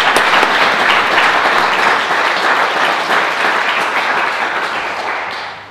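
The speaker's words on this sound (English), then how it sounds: "he deserves a second round of applause." A large audience at a public oration applauds in a sustained, loud wave of many clapping hands that holds steady and then slowly fades toward the end.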